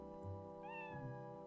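A cat character in The Legend of Zelda: Twilight Princess gives a soft, clear meow with a rising then falling pitch, heard alone over a quiet game backdrop.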